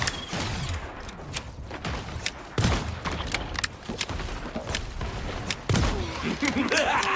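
Rapid bursts of gunfire from Black Widow shooting in the video game Marvel Rivals, with repeated sharp shots and a few heavier booms in an irregular rhythm, loud and close throughout.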